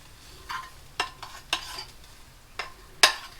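Rice frying in a pan is stirred with a utensil, giving five or six sharp scraping strokes spaced at irregular intervals over a faint, steady sizzle, close up and with no voices.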